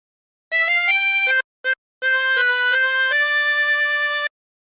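A chromatic harmonica plays the opening phrase of Home on the Range, sustained reedy notes with a couple of short breaks between them, clear and close with no voice.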